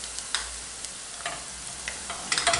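Minced meat frying in a pan with sautéed onions, a soft sizzle broken by intermittent stirring scrapes and clicks, close and fairly quiet.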